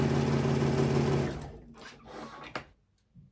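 A sewing machine stitches a half-inch seam across a quilt block, running steadily and loud for just over a second before stopping, followed by faint handling clicks and a brief tap.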